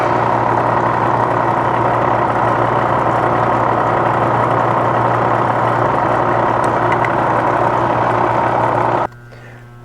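A Bridgeport milling machine runs steadily while drilling a Harley-Davidson cylinder head, a loud constant motor drone with a steady hum that cuts off abruptly near the end.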